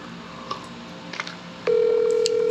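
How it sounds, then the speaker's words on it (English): Telephone tones on a landline: a few short faint beeps, then a loud steady electronic tone that holds to the end, with no voices. "is the phone ringing"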